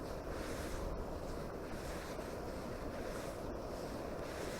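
Strong wind roars steadily against the microphone at a riverbank while spinning for pike, with constant low rumble and buffeting, no voices present.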